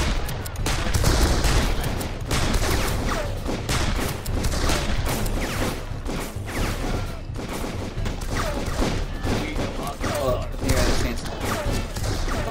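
Heavy gunfire in the first-person shooter Darkest of Days, dense overlapping rifle and machine-gun bursts with booms and thuds filling the whole stretch, loud and continuous.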